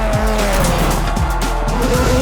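Travis Pastrana's Subaru Impreza WRX rally car at full throttle on a hillclimb run, its engine roaring loud and close with rising and falling revs and squealing, skidding tyres throughout.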